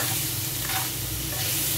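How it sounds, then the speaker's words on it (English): Shrimp stir-fried in a hot pan with garlic for pancit canton, giving a steady, loud, close sizzle with light stirring scrapes throughout. "Let's add in the shrimp. Just stir fry it"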